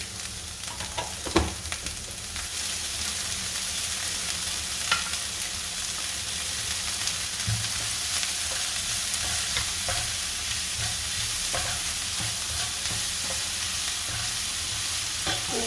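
Butter sizzles and spatters steadily in a hot pan for a Thai-style beef shakshuka, a dense crackling hiss with occasional sharper pops and a few clinks, close up and with no talking.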